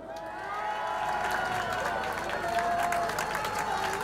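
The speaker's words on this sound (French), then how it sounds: "Je vous prie d'applaudir Katia et Florian." Crowd applauding and cheering at an outdoor street demonstration at the Trocadéro in Paris, a steady dense wash of clapping and voices from a large gathering, continuous throughout.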